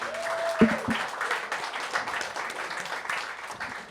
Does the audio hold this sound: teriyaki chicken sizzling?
no